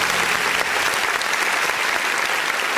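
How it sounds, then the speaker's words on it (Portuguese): A church congregation applauds during an online worship service, a dense continuous clapping from many hands that stays loud and even throughout. "Vamos aplaudir o nome do Senhor."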